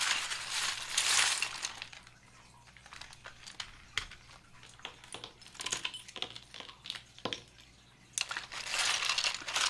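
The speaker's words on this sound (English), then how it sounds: "I'm about to shuffle now." Tarot cards are shuffled by hand close up, making irregular bursts of crisp riffling and slapping with short pauses between them. There is no talk.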